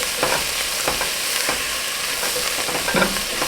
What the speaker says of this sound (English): I'm going to give that a quick stir and just cook that for about a minute.